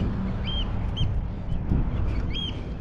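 Ducks quack a few times outdoors in a park in New Zealand after rain, over steady background noise, with short bird calls scattered across the scene.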